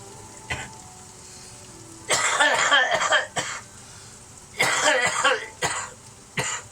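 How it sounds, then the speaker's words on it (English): Several harsh, loud coughing bursts from a person with a lingering cough, in two main clusters with a few shorter hacks between them, heard close up indoors. "I've gotten rid of most of this cough."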